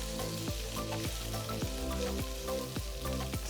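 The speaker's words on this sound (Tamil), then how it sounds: "ஒரு 2 நிமிஷம் மீடியம் ஃப்ளேமில் நல்லா வதக்குங்க." Steady crackling sizzle of onions sautéing over medium flame in a hot pan for capsicum chutney, with faint stirring scrapes and no voices.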